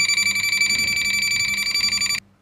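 Rapid, continuous electronic beeping comes from a clamp meter's field detector held to a live phase wire with an electric load connected. The tone is loud and close, almost unbroken, then stops abruptly near the end.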